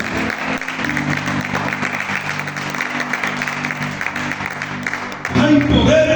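A church congregation applauding in worship, steady clapping under music and voices, swelling louder near the end.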